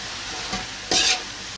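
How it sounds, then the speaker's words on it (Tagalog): Pancit bihon rice noodles are stir-fried with pepper, salt and soy sauce, giving a close, steady sizzle with a brief louder burst of hissing as the noodles are tossed and a light scrape near the end. "So, mix lang natin itong maigi."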